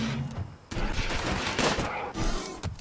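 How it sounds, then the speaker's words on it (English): Rapid automatic machine pistol fire in the video game RimWorld, dense bursts of loud crackling shots running almost continuously with brief gaps. "Holy crap, that machine pistol."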